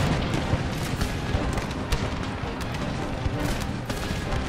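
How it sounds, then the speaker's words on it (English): Artillery batteries in Empire Total War fire shrapnel shot in a dense, continuous barrage of booms and crackling gunfire that fills the battlefield with heavy rumble. "Got my artillery firing shrapnel shot now"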